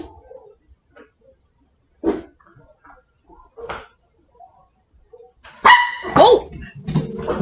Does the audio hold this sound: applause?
no